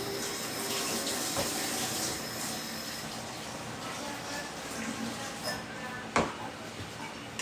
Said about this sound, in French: on va mettre de l'eau maintenant